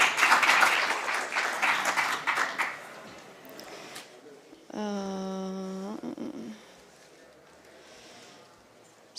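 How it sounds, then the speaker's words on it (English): Applause from the audience at a startup pitch competition, a brief burst of clapping over the first few seconds that fades out, followed by a sustained low, harmonic buzzing tone and quieter room noise. "Another applause for him."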